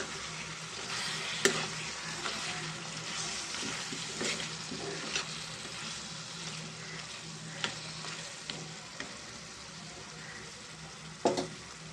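Drumstick curry is stirred with chili powder in a village-style pan, a steady close sizzle with scraping spoon strokes and a few sharp clinks throughout.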